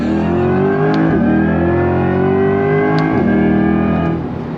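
A C8 Corvette E-Ray accelerates hard on throttle, its loud engine climbing steadily in pitch through two upshifts with brief dips between gears, close and continuous until it eases off at the end.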